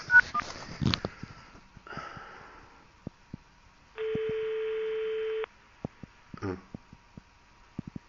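A telephone being redialed: a quick run of touch-tone dialing beeps, a long steady tone, then further clicks and short beeps, with faint clatter and handset noise around them.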